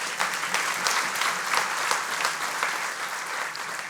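A church congregation gives a sustained round of applause, thick and even clapping that continues steadily at moderate loudness with no talking over it.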